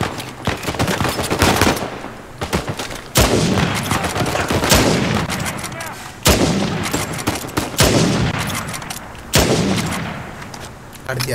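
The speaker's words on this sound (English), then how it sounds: "Oh shit, Sam, sniper. Find cover" Loud sniper fire in Uncharted 4: A Thief's End on PS4, a handful of sharp, booming cracks every couple of seconds, each followed by a long echoing tail, with no speech.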